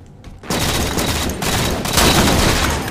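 Dense, loud gunfire in a multiplayer shooter game, a sustained rattling fusillade that bursts in after a brief quieter moment and keeps going for several seconds with no pause.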